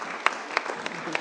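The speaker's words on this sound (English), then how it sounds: "Big round of applause for our panellists." Audience applause for a panel at an interfaith peace conference, a steady wash of clapping with a few sharper hand claps standing out over about a second.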